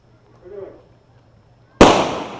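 A starting pistol fires at a girls' middle school 4x100 m relay final at a national track meet, one sharp loud crack after a quiet stretch with faint commentary, its echo and crowd noise trailing off afterward.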